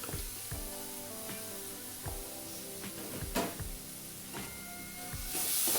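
Urad dal sautéing in a pan with green chillies and salt gives a steady frying sizzle throughout, broken by occasional scraping stirs and clinks from the spatula.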